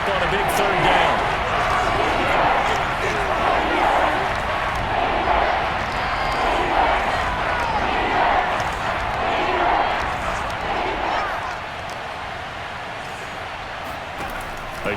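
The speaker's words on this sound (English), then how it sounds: "the crowd getting into it as we come up on a big 3rd down" A stadium crowd in the video game Madden 22 roars steadily before a big third down in a 49ers vs Raiders pre-season game, a constant broad cheer that eases slightly near the end, with commentary voices over it.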